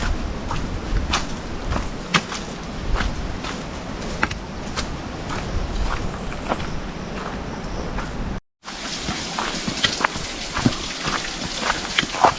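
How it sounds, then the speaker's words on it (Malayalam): Light rain drizzles on a forest trek to Agasthyarkoodam, a soft steady patter with scattered sharper drops and faint footsteps, briefly cutting out near the end before resuming. "വെള്ളം ചാറണല്ലേ."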